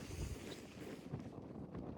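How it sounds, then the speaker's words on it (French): Wind gusting across an open ski slope on a sunny day, a steady low rushing buffet against the microphone that swells and eases throughout, with no voices. "il y a du vent"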